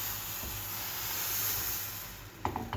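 Steady sizzling hiss of pancake batter in a hot frying pan, continuous and moderately loud, with a few brief clinks near the end.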